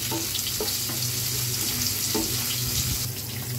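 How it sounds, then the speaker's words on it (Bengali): Dried red chilies fry in oil in a pan with a loud, dense, continuous sizzle and crackle, close up and without pause. "মরিচগুলো একটু ভেজে নিই।"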